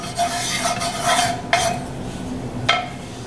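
Ingredients for a General Tso's chicken sauce are pushed around a pan, scraping utensil strokes over a light sizzle, with sharp metallic clanks of the pan.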